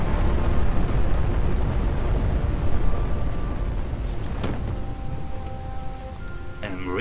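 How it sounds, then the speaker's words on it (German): Oil field explosion in the video game Just Cause 2, a loud continuous roaring rumble with crackling debris that slowly eases over seven seconds, with faint tonal game sounds near the end. "warum hast du das Ölfeld eigentlich gesprengt, Kumpel?"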